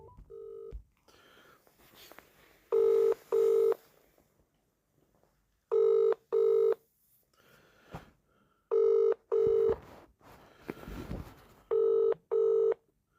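Keypad tones dialing a mobile number on a phone, sounding as paired bursts of steady beeps in clusters of two, separated by short gaps of quiet line noise and faint clicks.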